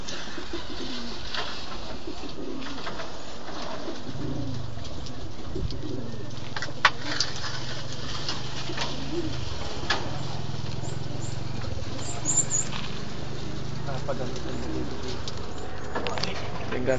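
Racing pigeons coo in a flock while feeding at a race stop on Mt. Mayon, with soft repeated coos, wing patter and scattered bird calls against a steady outdoor background.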